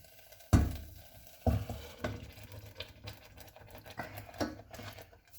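A small kitchen blender whirs in short pulsed bursts while making ravioli with truffle in tomato sauce, each burst starting sharply and fading, with clinks and kitchen noise between them.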